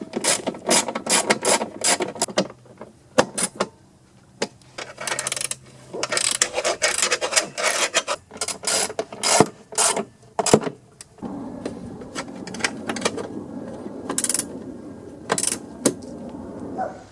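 A hand ratchet clicks in repeated quick bursts while tightening bolts on a Honda lawn mower, the pawl chatter close and crisp, separated by pauses with light metallic clanks and shuffling.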